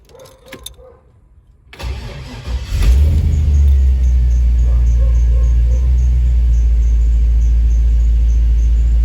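A 1953 Chevrolet Bel Air's V8 engine cranks and catches, then settles into a loud, steady, deep idle rumble that continues to the end.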